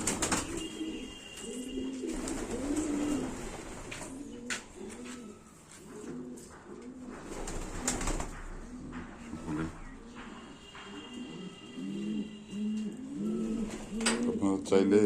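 Pigeons cooing in their loft during rainy, cold weather, many overlapping throaty coos in steady rhythm, with occasional wing flutters and background noise.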